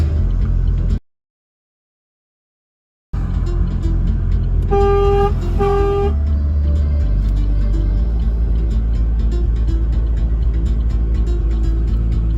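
A car horn sounds a few short honks over steady engine rumble and car radio music in Saskatoon, after a brief silent gap.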